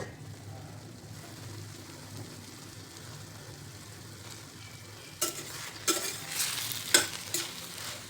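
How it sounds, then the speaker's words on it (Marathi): Five or six Byadgi chillies and a sliced onion are stirred in a frying pan. A quiet, steady sizzle is followed by louder scraping and spatula bursts in the last few seconds. "थोडंसं हलवून घ्यायचं, म्हणजे मिरच्या पण आपल्या छान असे सॉफ्ट बनले पाहिजे."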